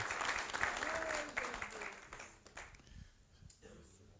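A church congregation claps at a modest level and the applause fades toward the end, with a voice speaking faintly underneath.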